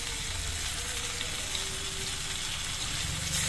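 Potatoes and eggplant fry in a pan with a ground paste of turmeric, cumin and chilli, giving a steady, close sizzle with no pauses and no voices throughout.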